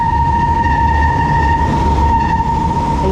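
An LRT 1 light rail train on the Cavite Extension rumbles past at close range near Redemptorist Station, its steady roar carrying a sustained high tonal whine from the wheels and motors.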